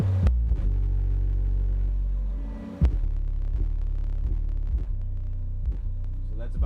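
An Audiopipe TS-PP2-12 12-inch car subwoofer pumps loud, deep bass with a steady low throb and a sharp thump near the middle, heavy low end filling the whole stretch, no talking.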